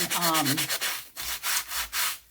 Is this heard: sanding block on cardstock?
yes